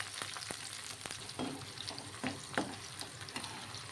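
About twenty green chillies fry in hot oil for a ground chutney, a close, steady crackling sizzle broken by several sharp pops and spatters.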